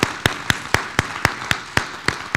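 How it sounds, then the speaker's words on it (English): Applause from an audience at a college partnership announcement, heard as loud, evenly spaced claps at a steady rhythm, with no talking. "let's just give ourselves a round of applause for that partnership"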